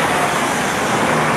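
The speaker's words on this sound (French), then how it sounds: "Désolé pour le bruit des voitures." Steady roar of passing car traffic on a busy road in Tokyo, a continuous broadband wash of engine and tire noise with no voices.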